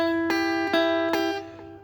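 Guitar picking pattern from a song: a few clean plucked notes ring out clearly in a slow, even rhythm and decay at the end, played alone with no voice.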